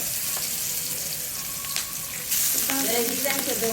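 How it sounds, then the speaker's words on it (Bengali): Fish frying in a pan sizzles steadily up close, with a few clatters and a louder burst of crackling partway through; no speech is heard. "এটা এখন দেখো মাছ ভাজে দেখো"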